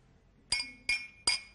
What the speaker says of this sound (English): You can hear the clinking of glasses.